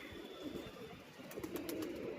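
A pigeon coos softly at dusk, a few low, throaty calls rising over steady background hum and faint ambient noise, with no voices.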